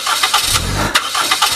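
A car's engine cranks repeatedly but fails to catch, a loud, close run of rhythmic starter churning with a few short bursts.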